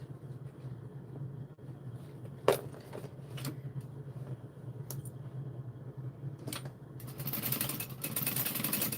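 A Juki DU1181N sewing machine stitches a bag, producing a low, steady mechanical hum with occasional sharp clicks and a louder, rougher run near the end, fairly faint overall.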